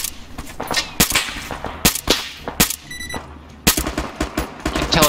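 Gunfire in the Metal Gear video game, crossing a desert map: sharp, loud shots rattle out in irregular bursts and single cracks, some close and some further off, with a brief pause near the middle.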